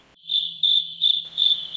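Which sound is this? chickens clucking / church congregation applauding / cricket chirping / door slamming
cricket chirping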